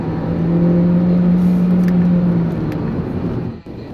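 A 2018 Audi A3 Sportback driving on the Le Mans circuit, a loud, steady engine drone with a sustained tone that holds for a couple of seconds, then eases and drops away near the end.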